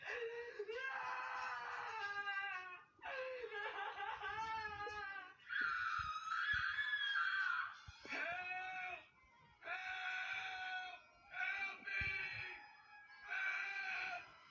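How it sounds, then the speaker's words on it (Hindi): A cartoon character screams and wails in pain while being hurt by a witch, a series of shrill, wavering cries in long bursts separated by short pauses, close and loud, with no other sound. "ये तो गुल्ली की चिल्लाने की आवाज है।"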